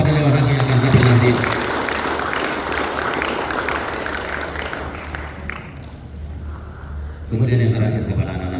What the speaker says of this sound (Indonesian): Kita beri aplaus kepada Dewan Hakim yang akan tampil nanti